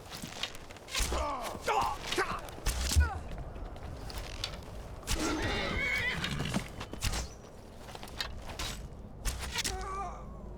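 Horse in the video game Skyrim neighing and whinnying several times, with clip-clop hooves, creaking tack and footsteps, close and fairly loud throughout.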